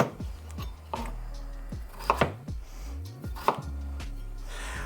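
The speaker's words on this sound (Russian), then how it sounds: "Сейчас я ее порежу и туда же на сковородку." Several sharp knife chops through potatoes on a cutting board, irregular and close, over steady background music.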